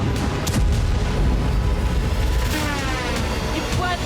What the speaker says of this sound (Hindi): सूमी में रूस के आत्मघाती ड्रोन से जोरदार धमाका हुआ